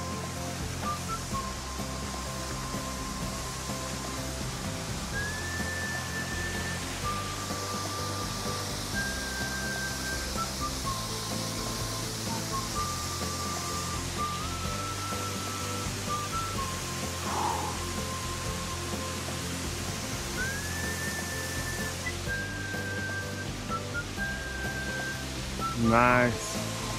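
Steady broadband rush of a waterfall in Theth National Park in the Albanian mountains, continuous and fairly even throughout, with faint voices and whistle-like tones over it and a brief louder burst near the end.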